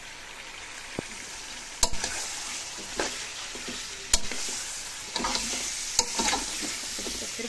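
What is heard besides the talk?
frying tomatoes and spices in a pan for chicken pulao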